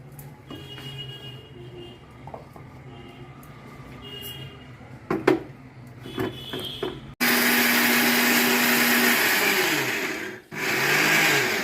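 An electric grinder powders ingredients for a homemade weight-loss drink: first some clattering handling and clicks, then a loud steady motor whine for several seconds, a brief stop, and the grinding starts again.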